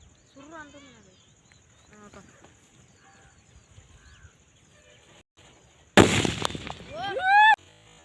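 An "atom bomb" firecracker goes off outdoors with one loud sharp blast and a crackling burst of debris, preceded by scattered voices calling out and followed by excited shouting.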